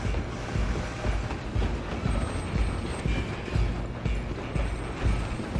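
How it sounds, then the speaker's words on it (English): A train in Red Dead Redemption 2 rolls along steadily, dense rumbling with rhythmic wheel clatter and metallic mechanism noise, loud and continuous with no talk. "I'm gonna ride ahead and stop the train"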